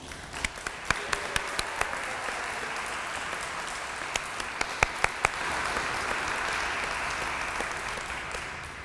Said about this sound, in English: Let's give Miles a big round of applause.